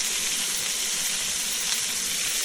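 Steady, bright sizzling of steak frying in a hot pan, a constant crackling hiss with no pauses and no voices.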